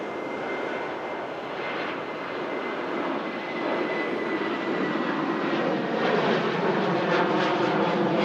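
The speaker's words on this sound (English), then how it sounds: "Usually Jet2 use a lot more runway than that. The 737s." Jet2 Boeing 737 taking off at Manchester Airport, a steady broad roar of jet engines that holds and slowly swells over several seconds, heard from a distance with no one talking.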